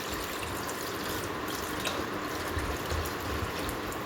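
Water poured into a pot of vegetable sambar makes a steady, continuous splashing rush that holds at an even level from start to finish, with no talking.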